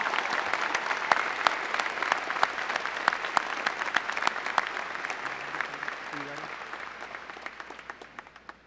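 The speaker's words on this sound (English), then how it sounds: "Please join me for a round of applause for these impressive accomplishments" A high school graduation crowd applauds in a sustained wave of clapping that gradually fades out, with faint voices underneath.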